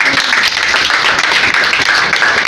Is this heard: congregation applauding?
yes